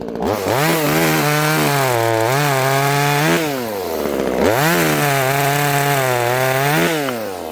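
A handheld saw cuts through a 10 cm branch, a loud, close, droning motor whine that rises and falls in pitch as it bites through the wood, no talking.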